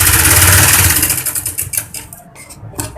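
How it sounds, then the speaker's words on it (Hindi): A sewing machine stitches the shoulder seam of a baby girl's lined kurti, a fast whirring run loud and close at first, then slowing into a few uneven bursts of stitches before stopping. "दूसरे शोल्डर को इस तरह से एक सिलाई लगा देंगे"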